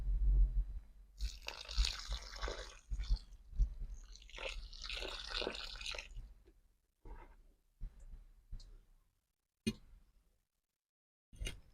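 Water poured onto the soil around a copper earth rod, a steady splashing gush for about six seconds, then a few scattered drips and small sounds before quiet.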